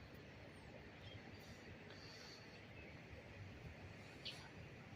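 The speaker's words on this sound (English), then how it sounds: "I'm hearing some noise coming from the train." A stopped CSX freight train, halted at a crossing in a possible emergency stop, gives off a very faint, steady low rumble and static-like vibration, heard from a distance with a few brief high squeaks.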